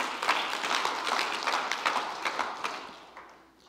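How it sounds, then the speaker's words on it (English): A church congregation claps together in a dense burst of hand claps that fades out toward the end. "Everybody claps."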